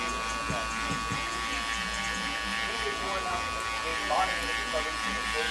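Electric hair clippers fitted with a 1/2 guard, lever open, cutting a fade on a client's head, giving a steady close buzz throughout with a few soft touches and shifts as the blade moves.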